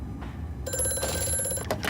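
A telephone rings in the horror video game Amnesia: A Machine for Pigs, a short bright electronic trill that sounds for about a second over a low dark ambient drone, close and fairly loud.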